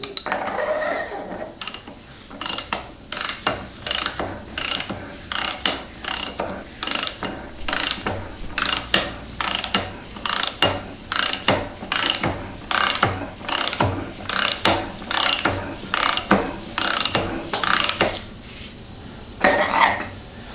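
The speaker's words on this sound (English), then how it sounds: "And then go ahead and run the nut down by ratchet, and then we'll go ahead and torque it." Ratchet running a nut down during final assembly of a Ford 6R140 transmission, heard as a long series of loud, close, rapid clicking bursts repeating in a steady rhythm of swings, with no talk.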